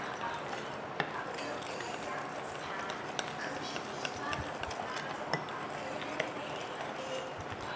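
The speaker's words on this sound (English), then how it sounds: "make sure you blend it properly. Just use the spoon" A spoon stirs and beats dalgona coffee in a cup, giving quiet, rapid, uneven clinks and scrapes over a low background.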